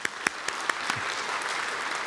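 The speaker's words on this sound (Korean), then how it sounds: "우리 하나님께 영광의 박수 한번 드립시다." A church congregation claps together, the sharp individual claps at the start quickly merging into steady, even applause that fills the room at moderate loudness.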